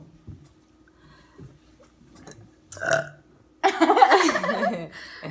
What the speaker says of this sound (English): Have to burp now.